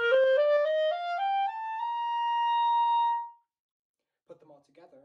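A clarinet climbs through a quick run of rising notes to a sustained high pitch held for about a second, then stops; brief faint noise follows after a pause.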